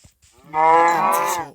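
A cow from the video game Minecraft gives a single loud, drawn-out moo lasting about a second, heard clearly on its own.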